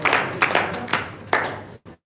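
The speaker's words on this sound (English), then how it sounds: "Please, let's give them a loud clap as they take back their seats." An audience at a live corporate event breaks into loud applause, a dense burst of many hands clapping close by for nearly two seconds before cutting off abruptly, followed by a brief faint tail.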